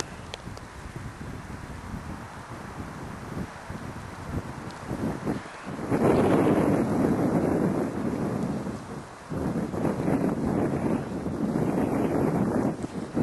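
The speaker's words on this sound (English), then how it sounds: "The wind's pretty much doing it for me today." Outdoor wind buffets the microphone in loud, rumbling gusts, rising and falling over the span with a strong surge midway, covering a fire-making demonstration site.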